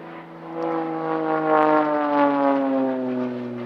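An Extra 330 SC aerobatic propeller plane flies at the Midlands Air Festival 2024, a loud, steady droning engine tone that swells and eases slightly without speech.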